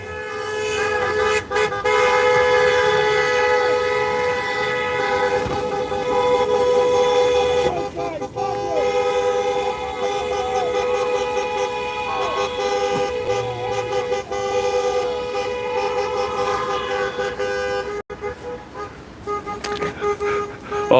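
Car horns honk at a roadside protest in Fort Erie, sustained blaring tones stacked over one another for much of the stretch, with passing traffic underneath, easing briefly near the end.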